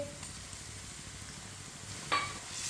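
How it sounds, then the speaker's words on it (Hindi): Crushed garlic sizzling over medium heat in a pan with browned onion, a continuous close hiss with a brief metallic clink of the spoon stirring near the end. "लहसुन को भी 1-2 मिनट के लिए पका लेंगे, ऐसे ही चम्मच चलाते हुए"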